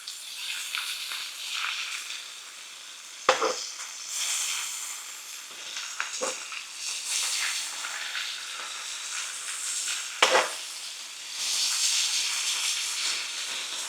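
Bacon sizzles steadily in a frying pan for a beginner breakfast burrito, a continuous close hiss broken by a few sharp pops and clicks, with no talking.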